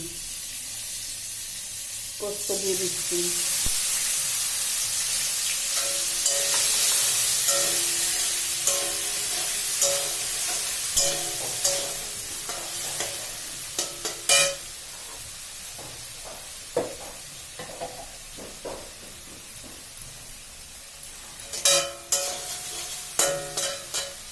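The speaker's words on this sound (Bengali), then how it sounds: "দেখো আমার কত সুন্দর পটলগুলো ভাজা হয়েছে" Oil sizzles steadily in a pan of frying pointed gourd while a utensil scrapes and stirs in repeated clacks, a few louder knocks near the end.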